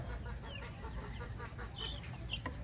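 Chicks sick with fowlpox cheep and cluck softly, as if from a little distance. The calls overlap in a continuous low chatter with a steady background murmur.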